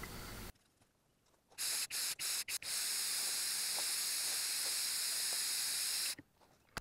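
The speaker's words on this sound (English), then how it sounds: "this is a camera mounted to a spray can" An aerosol spray can of paint hisses right up close, first in a few short sharp bursts and then in one long steady blast before cutting off.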